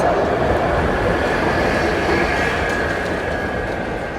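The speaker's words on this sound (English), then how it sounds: "we're getting another tram coming down into Sóller Port" A tram rumbles past on its way into Port de Sóller, Mallorca, with steady rolling wheel noise and a faint high squeal, continuous and fairly close, fading slightly at the end.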